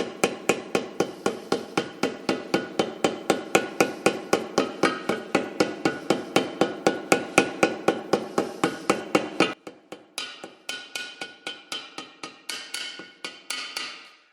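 Rapid, evenly spaced hammer blows on a metal axle lip of a John Deere 710 tractor, loud and ringing, about three strikes per second, then a short pause before a slower, lighter series.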